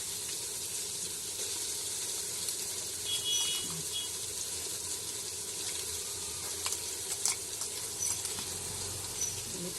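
Ginger, garlic and green chili paste sizzles with browned onions in oil for a country chicken curry, a steady close frying hiss with small pops and a few stirring scrapes throughout.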